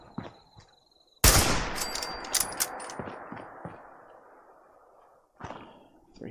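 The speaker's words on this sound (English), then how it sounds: "I should probably reload before I shoot." Gunfire in the Fallout 76 game, a loud sudden burst of shots with ringing metallic tails decaying over several seconds, followed by another short crack near the end.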